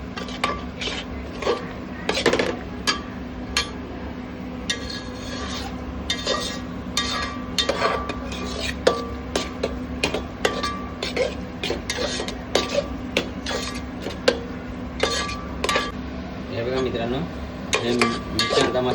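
A spoon scrapes and clinks rhythmically against a pan while turmeric, garam masala and red masala are stirred together for a homemade pulao, steady close metallic strokes over a low background hum.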